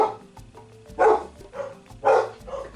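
A couple of dogs bark a few times, short sharp barks spaced about a second apart, fairly close, over a quiet background.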